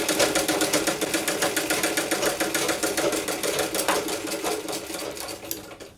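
Sewing machine stitching a double-folded seam on a toddler's A-line frock, a loud continuous rapid needle rattle at close range with even mechanical rhythm, slowing near the end.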